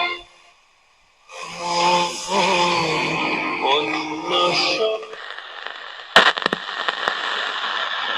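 An old Philips Champion analog radio tuned to medium wave plays a broadcast with music or voices, then slips into a steady hiss, with a sharp crackle burst before the static continues.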